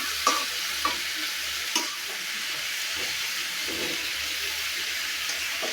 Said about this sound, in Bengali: একটু নাড়া দিয়ে নিই।